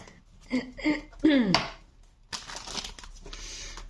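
A deck of tarot cards is shuffled in a brisk burst of papery riffling and crinkling. Someone speaks briefly just before it.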